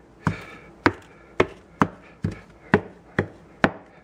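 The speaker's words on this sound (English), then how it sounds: "I'm chopping blindly." Knife chopping food on a cutting board while shrimp scampi is prepared, with seven sharp, evenly spaced chops close by, each a crisp thud with short decay.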